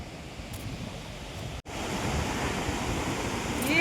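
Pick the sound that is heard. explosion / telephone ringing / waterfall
waterfall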